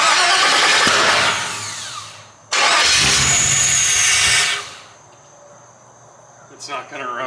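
A 1986 Chevy K20 truck with a swapped LS engine cranks in two long starter bursts, loud and close, each cutting off without the engine catching, leaving a quiet hiss afterward.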